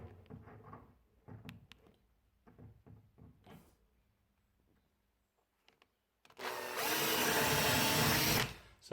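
Screws are driven with a power drill down into the plinth along the base of a wardrobe during assembly, a loud continuous whir of about two seconds following quieter knocks and handling noises.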